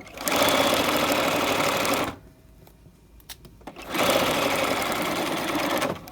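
A sewing machine fitted with a zipper foot stitches a pocket in two loud, steady whirring runs separated by a short quiet pause with faint clicks.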